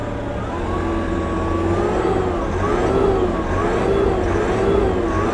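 Sherp ATV engine revving under steady acceleration, a loud continuous drone with rising and falling pitch as exhaust gases inflate its tires, heard close and alone.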